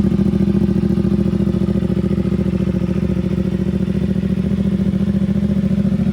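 A CFMOTO 450SS motorcycle fitted with a slip-on exhaust idles steadily, its engine giving a loud, even, throbbing rumble with no break for the whole stretch.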